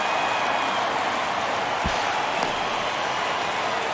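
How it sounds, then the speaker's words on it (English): Video-game baseball crowd in MLB The Show 23 cheering steadily throughout, a broad continuous roar of applause and crowd noise filling the stadium with a brief low thump near the middle. "you can feel this crowd waking up a bit here"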